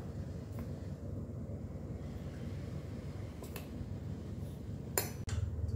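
A spoon mixes jowar flour in a bowl with soft, steady scraping, broken by a few sharp clinks of metal against the bowl near the end.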